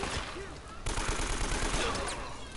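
Gunfire in the video game Uncharted: Drake's Fortune, a dense fusillade of rapid overlapping shots crackling continuously for a few seconds, loud and close with heavy low-end thumps.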